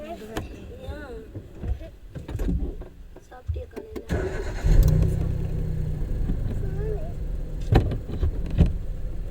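A driving school car's engine runs steadily, a low rumble that swells louder about halfway through, under ongoing talk between trainer and learner inside the car.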